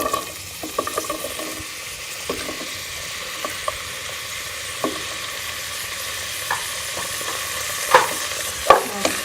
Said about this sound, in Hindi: प्याज को छोटा सा फ्राई कर लेंगे